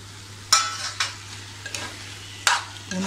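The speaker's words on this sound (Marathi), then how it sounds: "पुन्हा आपण ढवळून घेऊ." Spoon scraping through a ridge gourd curry with coconut in a pan, several distinct stirring strokes spaced about a second apart over a low steady hum, close and moderately loud, no voices.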